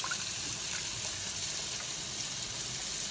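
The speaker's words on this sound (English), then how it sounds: "Put a little splash of milk in there." Milk splashed into melted butter in a hot pan for a cheddar and Swiss cheese sauce, giving a steady close hiss and sizzle of liquid hitting the hot fat with no talking.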